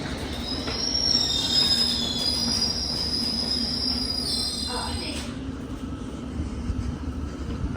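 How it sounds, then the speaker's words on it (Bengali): A London Underground District line train arrives at the platform, its steady rumble carrying loud, high metallic wheel squeals that fade after about five seconds while the train rolls on. "রুফি রুফি আন্ডারগ্রাউন্ড ট্রেন চলে আসছে, ডিস্ট্রিক্ট লাইন।"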